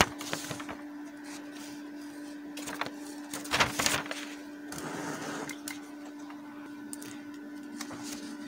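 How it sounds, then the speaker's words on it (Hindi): An HP LaserJet 2300 laser printer runs a self-test page, giving a steady whirring hum broken by clicks, clacks and rustling paper-feed bursts, with one louder clattering stretch partway through and no voices. "उसने जो है HP LaserJet 2300 प्रिंटर का जो सेल्फ टेस्ट है हमें करके दे दिया"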